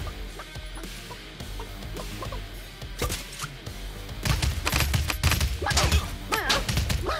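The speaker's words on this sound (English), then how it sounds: "Oh, the chicken can fight back." A chicken clucking in the video game Realm Royale, with sharp hits and crashing combat impacts growing louder and busier over the second half.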